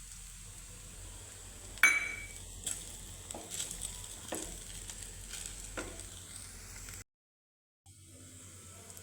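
Sabudana khichdi with roasted peanut powder is stirred in a pan, giving a soft continuous sizzle broken by a few sharp scraping clicks of the spoon, then a brief pause before the frying hiss returns.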